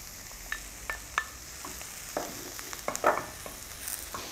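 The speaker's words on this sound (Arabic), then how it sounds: "هننزل بقى بالمشروم الشرايح الفريش" Fresh sliced mushrooms sauté in a pan with a low, even sizzle and scattered light clicks and stirring scrapes, close and quiet, with no voices.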